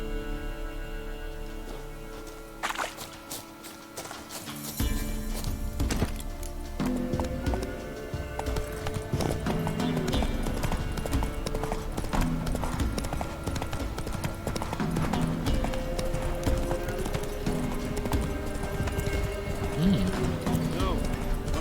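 A horse galloping in The Witcher 3: Wild Hunt, rhythmic hoofbeat clip-clop running steadily through most of the scene with occasional whinnies, mixed with spoken dialogue and background game sound.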